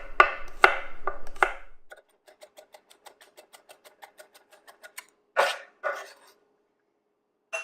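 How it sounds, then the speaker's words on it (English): A knife chops about ten garlic cloves finely on a board: a few loud opening strikes, then a steady run of quick, light taps, ending with a couple of heavier chops. "And you want to chop this up really fine."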